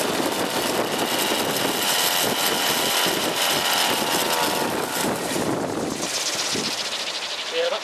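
A small 49cc petrol engine running a bit rich, with an unset carburettor, drones steadily with a buzzing propeller whir, loud and close, dropping slightly in pitch near the end.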